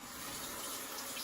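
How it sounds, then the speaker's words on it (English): Cold tap water runs in a steady, close stream over a tilted razor blade as it is rinsed, an even splashing hiss with no talking. "I just hold my razor tilted forward and let the water flow here on my blade"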